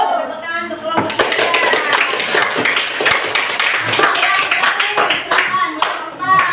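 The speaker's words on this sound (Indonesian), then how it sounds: "Tepuk tangan untuk kelompok 3." A classroom audience claps for a student group that has just presented, breaking into dense, sustained applause after a brief spoken introduction, with sharp individual claps standing out near the end.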